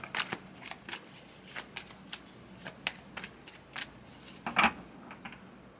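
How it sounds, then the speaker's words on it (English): Quiet, close card shuffling: a string of soft riffling flicks and taps in an uneven rhythm, with no talking. "Let me shuffle this up some more."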